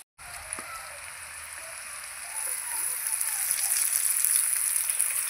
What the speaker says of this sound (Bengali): পেঁয়াজ আর আলু একসাথে এবার ভেজে নেবো